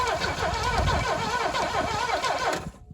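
An old, rusty car engine with low compression on one side cranks and catches, its exhaust rumbling with a pulsing, uneven beat for a few seconds before cutting off abruptly.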